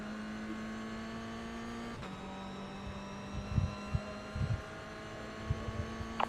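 A Carrera GT3 race car engine in a racing video game during a Michelin Pilot Challenge race holds a steady, buzzing drone, drops in pitch at a gear change, and is joined by a few low thumps.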